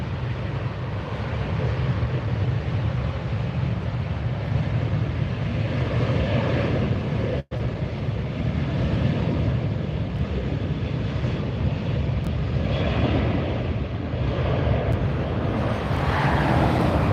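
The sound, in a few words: Southwest airplane departing at LAX airport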